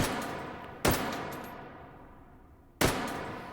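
Two loud, sharp gunshots from an AK74N rifle firing 5.45x39mm rounds in the VR shooter H3VR, about two seconds apart, each ringing out in a long decaying tail.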